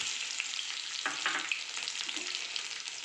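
Cumin seeds and garlic sizzle and crackle in hot oil in a pan, a steady close frying hiss with a few brief stirring scrapes, no voices.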